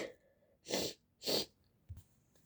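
A sick boy sneezes twice in quick succession, loud and close, each a sharp burst of breath, followed by a short sniff, with no talking.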